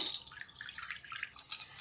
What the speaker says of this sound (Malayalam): ഇനി നമുക്ക് ഈ വെള്ളം ഈ പ്ലാന്റിന് ഒഴിച്ചു കൊടുക്കാം